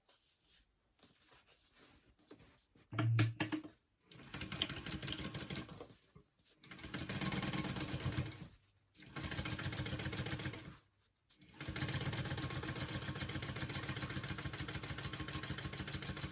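A sewing machine top stitching a fabric tote bag, running in steady mid-pitched whirring bursts of a few seconds each, separated by short pauses, close and alone without talk.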